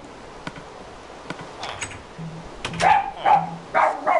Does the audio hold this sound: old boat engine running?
no